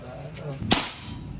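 One sharp, snapping CO2 air gun shot cracks out close by against a quiet background.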